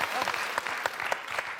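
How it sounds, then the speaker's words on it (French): Brief burst of studio audience applause for a contestant on a French TV quiz show, steady clapping throughout with a few sharper claps standing out. "Alors là, applaudissements pour Clémence."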